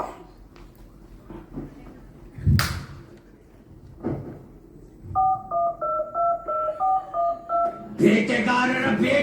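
A telephone keypad being dialed, a quick run of about nine touch-tone beeps in steady rhythm, preceded by scattered knocks and a sharp bang, with a burst of noise at the end.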